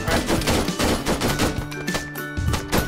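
Rapid gunfire in the military shooter game Arma 3, dense bursts of automatic fire and overlapping shots crackling continuously and loudly through the whole stretch, with no voices over it.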